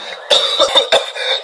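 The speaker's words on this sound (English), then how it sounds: "he started coughing and gagging so hard that he almost passed out" A cartoon character coughs and gags in a short, harsh burst of several rapid, raspy, throaty hacks, close and loud.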